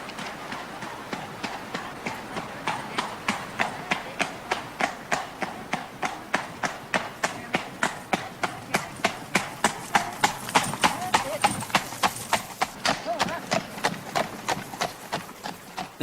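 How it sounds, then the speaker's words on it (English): Hooves of four horses clip-clop in a steady, fast rhythm as they pull a one-ton horse-drawn coach along a road, close and clear throughout, with a faint rumble of wheels beneath. "4 horses pulling it."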